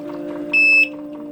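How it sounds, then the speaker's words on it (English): A single short electronic beep from a NxStage System One home hemodialysis machine sounds once over a steady low machine hum. "You hear that beeping sound"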